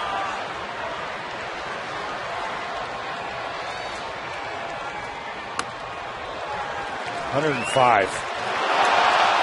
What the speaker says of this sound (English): That's the reaction of the crowd.